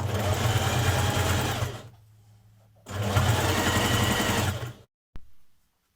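A sewing machine stitches a sweatshirt seam in two steady, close runs of rapid whirring and clatter, separated by a short pause, then ending with a quick click.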